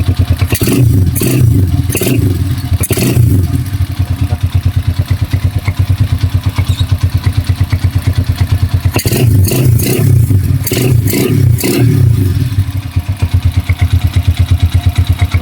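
A Honda TMX 155 motorcycle with a newly fitted carburetor, running loud and close: a rapid idle chug broken by sharp throttle blips and revs, first in a cluster and then again after a quieter stretch.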